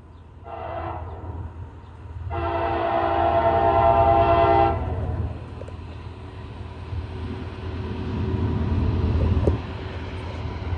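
A CSX freight train passes close by with a steady, loud rumble of wheels and cars, and two horn blasts ring out in the first few seconds.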